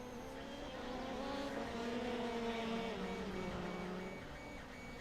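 A Volkswagen rallycross car accelerates on a lap of Tsukuba circuit, its engine note climbing steadily and loud, then easing off toward the end with a slight drop in pitch, with no talk over it.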